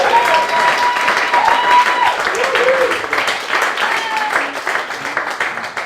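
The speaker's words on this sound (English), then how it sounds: "Give a big round of applause to Miss Abby Washuta." A comedy club crowd in New York gives a comedian sustained, dense applause that stays loud and even throughout, with cheering voices mixed into the clapping.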